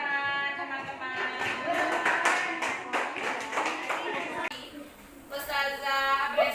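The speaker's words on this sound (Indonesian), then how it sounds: "Tepuk tangan teman-teman" Classmates in an Islamic religious education lesson clap their hands together, quick claps mixed with loud voices calling out or chanting over them, with a brief lull before the voices rise again.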